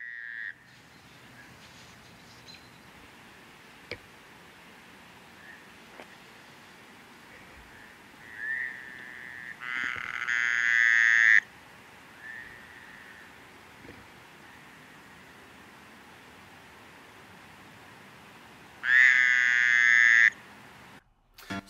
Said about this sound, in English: you're going to get to see one of the male toads calling and expanding its throat